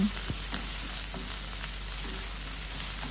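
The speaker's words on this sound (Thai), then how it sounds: "ก็ผัดผัดให้เขาสุกนะคะ ผัดไป ให้เขาสุกเหลืองนะคะ" Onions being stir-fried in a hot pan, a loud, steady hissing sizzle with a few brief scraping strokes of the spatula, close and continuous.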